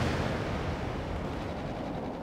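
Gunfire and explosions in the World in Conflict war strategy game, a dense continuous low rumble of distant battle noise with muffled booms, fairly quiet and without clear individual shots.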